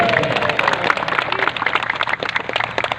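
Audience clapping at a large open-air religious gathering in a village in Jambi, a steady patter of many hands mixed with crowd noise that runs continuously.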